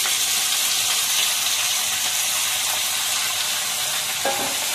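Vegetables and a potato sizzle and fry steadily in a pan while being stirred, a loud continuous hiss with a brief clink of a utensil near the end.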